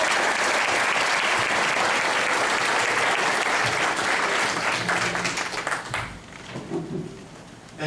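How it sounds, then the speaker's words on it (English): Audience applause at a health care meeting in Canada: loud, dense clapping from a large crowd that holds steady for about six seconds and then thins out and fades. "Round of applause for Michael."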